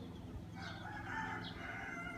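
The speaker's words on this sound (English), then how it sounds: "And there's a rooster." A rooster crows at a farm with a horse riding arena, the call moderately clear above steady outdoor background noise, with no talking over it.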